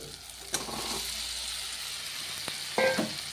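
Spice masala with tomato sizzles in a pan as it is stirred, a soft continuous frying hiss broken by a couple of short scraping stirs, close and fairly quiet, with no talking.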